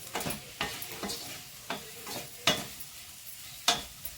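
Ladies finger (okra) curry is stirred in a hot pan: a bright, continuous sizzle punctuated by about eight sharp scraping strokes of the spoon at an uneven rhythm.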